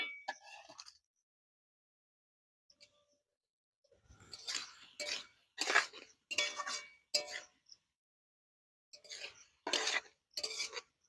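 Cashews and raisins are stirred in a pan for fried rice, giving a short scrape at first and then a run of scraping, clinking strokes of moderate loudness with brief pauses between them.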